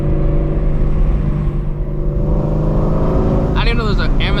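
A Shelby GT350 Mustang cruises on a highway with a steady, loud engine drone and road rumble from inside the car, and a voice comes in near the end.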